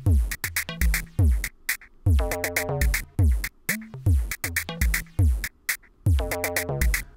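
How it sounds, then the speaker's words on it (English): A SineBeats drum synth in Reaktor drives an ambient dub techno loop: punchy kicks and clicky percussive hits with tonal, chord-like stabs in a repeating, syncopated pattern, loud and upfront with no voices. "which of course is another drum synth in the Reaktor Factory library."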